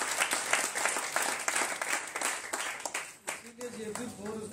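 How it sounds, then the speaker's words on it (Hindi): An audience breaks into steady applause at a training event, claps filling the clip at moderate loudness before thinning toward the end, with voices coming through underneath. "एक बार जोरदार तालियां बजनी चाहिए 4 स्क्वायर और के लिए"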